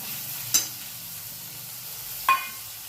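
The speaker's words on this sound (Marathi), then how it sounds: "हा कांदा छान होऊ देऊ थोडासा." Onion frying in a pan with a wild leafy vegetable gives a low, steady sizzle, broken twice by sharp spoon taps against the pan.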